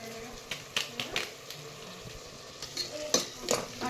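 Vegetable kurma with garam masala stirred in a pan: repeated spoon scrapes and clinks, irregular and close, over a low steady sizzle, with a voice talking briefly in places.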